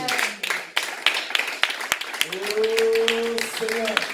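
A church congregation at a worship service claps in scattered, uneven bursts while voices call out and someone speaks over the clapping.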